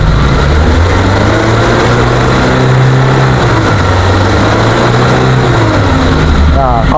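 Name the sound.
Suzuki Carry Futura pickup 2001 engine idling normally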